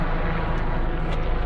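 A helicopter flying over an area near Macon, Georgia, heard as a steady, loud rotor and engine roar that holds evenly throughout with no talk over it.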